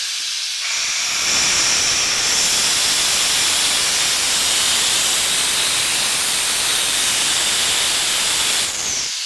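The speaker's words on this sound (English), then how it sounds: "You hear the air exhausting. The pump is operating." A Graco Bulldog drum unloader air pump exhausts air in a loud, continuous broadband hiss that starts abruptly and holds steady for several seconds before cutting off, with no speech.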